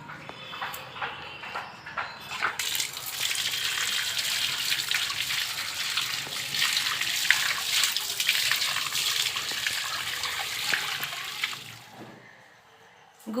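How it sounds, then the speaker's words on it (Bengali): Water runs steadily from a tap while something is washed, a close, continuous splashing gush lasting about ten seconds before fading out. "একটু ধুয়ে নিই।"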